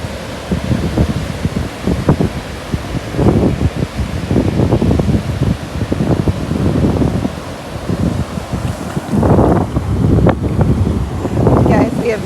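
Gusty wind at the beach in Surfside, Texas buffets the microphone in heavy, uneven bursts, roaring close and loud, while a voice speaks briefly beneath the rumble.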